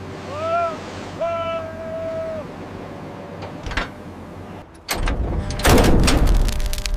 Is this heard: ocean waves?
yes